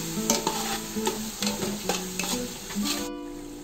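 Mutton biryani masala with salt frying in a pan and stirred with a spoon, a steady close sizzle broken by repeated scraping strokes of the spoon, no talking.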